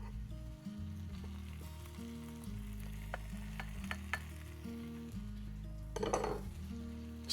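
Garlic added to caramelized onions in a pot, frying with a steady sizzle under repeated metallic scraping and clinking of a spoon against the pot as it is stirred.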